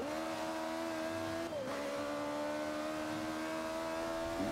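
A race car engine in a video game race holds a steady high whine, dips briefly on a gear shift, then climbs again, loud and close with no talking.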